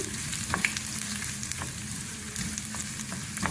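Ginger frying in hot oil for a dhaba-style mash daal tadka, a steady close sizzle with occasional stirring scrapes and light pops, no voices.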